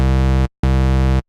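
An 808 bass synth built from two combined oscillators in the Massive VST plays two loud, buzzy, sustained low notes, each about half a second long and separated by a short gap.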